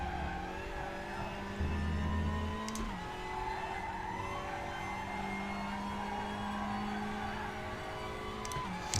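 A WTCR touring car in RaceRoom Racing Experience at Zandvoort, engine droning steadily near and loud with a downshift and revs climbing again, tires faintly squealing.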